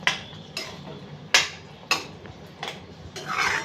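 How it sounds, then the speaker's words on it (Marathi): Fried okra (bhindi) is folded into a cooked gravy, and a spatula scrapes and clinks against the metal pan about six times in an uneven rhythm, close and fairly loud, ending in a softer, longer scrape. "आता ह्या स्टेजला आपण भेंडी जी फ्राय करून ठेवली आहे ती टाकणार आहोत आणि छान हलवून द्यायची आहे"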